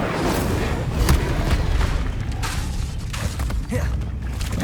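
A fire spell, Incendio, is cast in the video game Hogwarts Legacy, giving a dense, continuous roaring rumble with crackling bursts and booming low end throughout.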